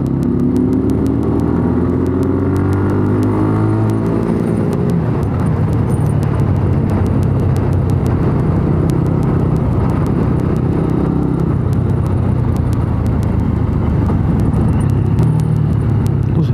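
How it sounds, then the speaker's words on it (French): A small motorcycle with a punctured exhaust pipe idles and passes nearby, its rough, loud, raspy drone running steadily throughout in a seaside town, with no talking. "Elle fait un de ses boucans pour une petite moto. Il a percé son pot quoi."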